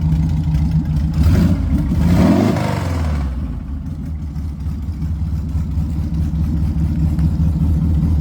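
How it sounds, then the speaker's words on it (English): The engine of a kit car or replica runs a little rich and is revved up once. It swells into a loud, near roar and then drops back to a steady, rumbling idle, with no talking. "Go ahead and rev it up."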